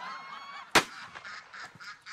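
A duck quacks once, sharp and close, within a short comedic television sketch with faint background sound around it and no clear talk.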